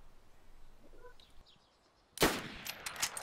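A single sharp sniper rifle shot in a video game cracks out loud and close after a quiet stretch, followed by a brief ringing tail and a few smaller impact sounds.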